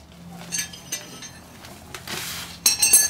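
Loose metal nuts taken off a leaf spring shackle on a Mazda RX3 rear end clink and rattle together in a few short, bright bursts, quiet between jingles, with the loudest cluster at the end.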